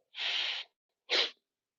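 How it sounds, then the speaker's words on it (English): Two sharp, loud sneezes close to the mic, a longer burst followed by a short one after a brief pause. "I'm gonna need to sneeze so bad."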